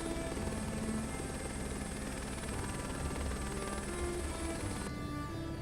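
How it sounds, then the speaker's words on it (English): Airbus H125 helicopter flying in Microsoft Flight Simulator 2024 over the French Alps, a steady droning turbine whine with a constant rotor buzz and high-pitched tonal hum, unbroken and even throughout. "That's why my helicopter is like wobbling a bit."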